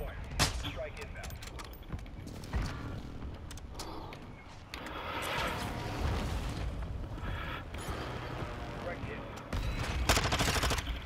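Precision airstrike in Warzone 2, with loud, dense bursts of explosions and gunfire rumbling and crackling across the whole stretch, swelling again near the end.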